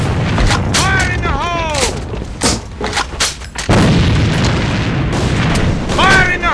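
Grenade explosions in a video game: deep, loud booms thump repeatedly among gunfire-like cracks, while shouted voice callouts ring out over the action.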